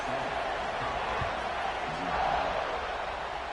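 A college football stadium crowd waits for the kickoff after a touchdown, a broad distant roar and murmur that swells gently in the middle, heard behind a play-by-play announcer.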